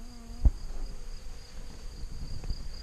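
Bees buzz steadily around blue borage flowers in a garden, a soft continuous hum with a brief knock near the start.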